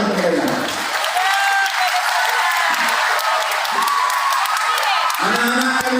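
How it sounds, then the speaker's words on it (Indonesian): Audience at a large parenting seminar breaks into sustained applause with some cheering, a dense continuous wash of clapping, and a voice speaks over it at the start and end. "Saya minta tolong kasih tepuk tangan untuk mereka."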